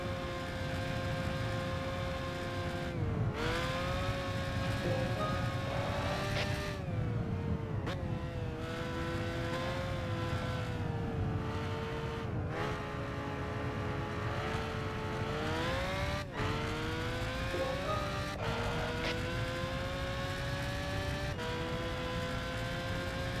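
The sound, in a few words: Lamborghini supercar racing in the video game Gran Turismo 5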